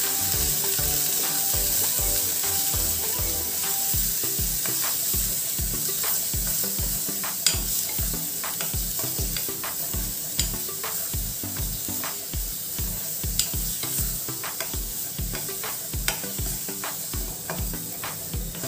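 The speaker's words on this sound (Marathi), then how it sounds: "हे आपण व्यवस्थित तेलामध्ये परतून घेणार आहोत." Ground masala paste sizzles in hot oil as it is sautéed for a mutton curry, a constant frying hiss broken by regular scraping strokes of the spoon, close and steady, with no talk.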